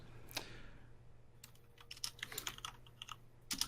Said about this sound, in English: While he's typing that out